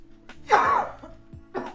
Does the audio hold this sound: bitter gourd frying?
no